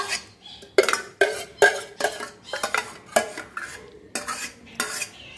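Mango pachadi is scraped and spooned from a pan into a vessel, making a quick run of close metallic clinks and scrapes of a utensil against metal cookware.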